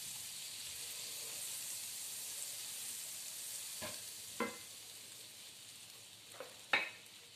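Butter melts in a pan for a royal banana cue, giving a quiet, steady sizzle and faint hiss, broken by a few soft clinks or stirring knocks toward the end.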